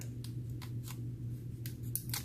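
Scissors cutting a short strip of tape during an iPhone 6s EMI shield removal repair: a series of crisp snipping clicks spaced unevenly over a steady electrical hum, close and fairly quiet.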